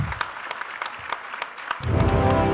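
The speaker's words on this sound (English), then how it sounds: "Let's give a big round of applause" An audience claps to welcome a speaker at a university computer science event, a crisp scattering of individual claps that thickens into fuller applause with a low rumble toward the end.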